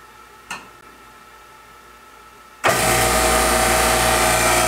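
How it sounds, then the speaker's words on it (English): A Harvest Right freeze dryer's standard vacuum pump kicks on abruptly after a quiet stretch with one faint click, then runs as a loud, steady, close droning hum with a strong low rumble, no talking. "There goes the standard pump"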